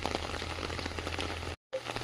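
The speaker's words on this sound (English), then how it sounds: "It's raining here in Southern California. Look at this rain." Heavy rain falls in a Southern California garden, making a soft, dense, steady patter on surfaces that cuts out briefly near the end and then resumes.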